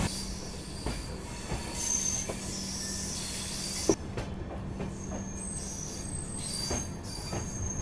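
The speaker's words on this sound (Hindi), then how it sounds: "शायद वो जन्मभूमि एक्सप्रेस होगी जो उस तरफ खड़ी है" Train wheels squeal steadily as rail cars roll through a station, with sharp metallic clicks and clacks over a continuous high screech.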